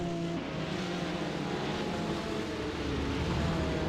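Race car engine in the iRacing sim, an SCCA league round at Mid-Ohio, droning steadily and loudly throughout with a faint rise in revs near the end, alone without talk.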